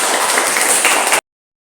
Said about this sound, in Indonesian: Kita beri tepuk tangan dulu untuk